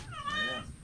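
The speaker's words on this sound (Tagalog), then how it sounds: "Kano kang pusa yan?" A cat gives a single short, clear meow, close and loud, with nothing else around it.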